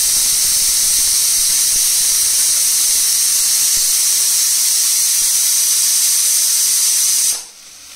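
Pressure cooker whistling while cooking dal, a loud continuous high-pitched steam hiss held for about seven seconds before cutting off abruptly.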